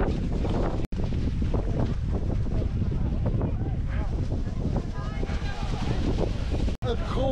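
Gusty, cold wind buffets the microphone with a constant roar during rain in Rio de Janeiro, mixed with water and boat noise and some voices talking.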